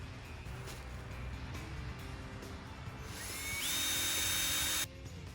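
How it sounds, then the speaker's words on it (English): A power drill bores through a pipe to make holes for eye bolts on a retractable hops trellis. A rising steady whine comes in loudly and near for about a second and a half, then cuts off, with faint background noise before it. "We're going to drill through all the way through for our eye bolts."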